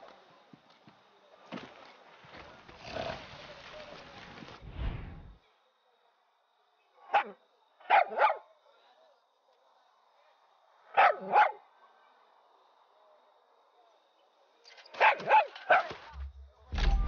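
Dog barking in the video game Far Cry 6, several short bursts of barks separated by quiet gaps, fairly close and alone.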